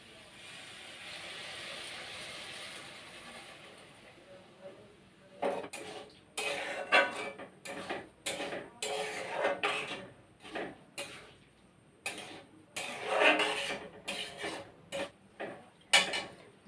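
Hot water goes into a wok with food stuck to its bottom over a high flame, a soft hiss at first followed by a string of sharp metal scrapes and clinks of a spatula against the pan.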